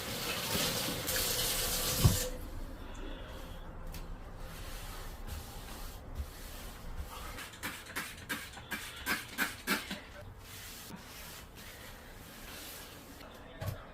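Running tap water splashes over dishes being scrubbed with a soapy sponge in a home kitchen, a faint steady wash with a clunk early on and a run of soft rhythmic scrubbing and clinking strokes, while people talk quietly.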